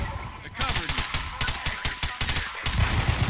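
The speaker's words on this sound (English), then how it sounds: "that silencer does not sound very good" Suppressed gunfire in Garry's Mod using customizable weapons, fast repeated shots popping steadily through the clip, close and fairly loud, with a voice talking over part of it.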